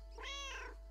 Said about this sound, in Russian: Мяу. Тише, Женевьева.